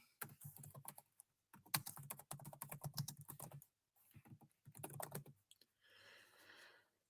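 Close, crisp typing on a computer keyboard in rapid bursts of key clicks, pausing briefly before a lighter final flurry.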